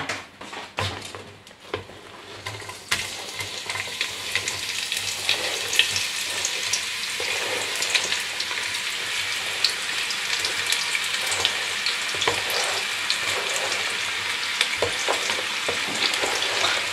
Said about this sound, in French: À partir du moment où l'huile est un petit peu plus liquide parce qu'elle chauffe, on y incorpore tous les oignons